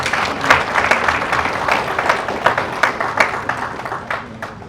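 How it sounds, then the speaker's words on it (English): A crowd at a business summit in Ghana claps in a thick, sustained round of applause, with sharper individual claps popping out of the steady wash. "Please join me in giving them a well-deserved round of applause."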